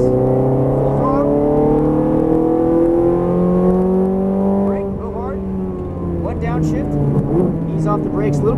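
Ferrari F430 Scuderia at full throttle on a track, a loud, close engine wail whose harmonic tones climb steadily, dip briefly at a shift, then rise again, with someone talking over it.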